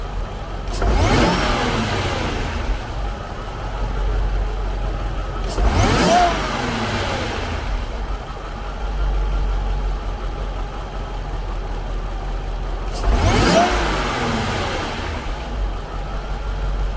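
A Jaguar XJR fitted with a Mina Gallery intake and stock exhaust is revved three times from idle, each blip rising sharply and falling back, loud and close, with the engine idling steadily between the revs.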